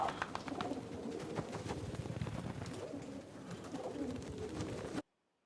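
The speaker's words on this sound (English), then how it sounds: "The doves. The carrier pigeons." Doves or carrier pigeons coo steadily in a scene from the TV drama The Leftovers, with a dense, busy background throughout before the sound cuts off abruptly.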